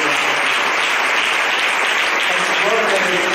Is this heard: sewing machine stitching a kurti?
no